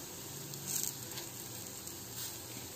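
Ridge gourd dosa cooking in a pan over a low flame, a soft steady sizzle that holds evenly throughout, quiet and close, with no talking.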